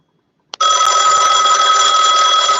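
After a moment of silence, a telephone starts ringing with a loud, continuous electronic bell tone that holds steady to the end.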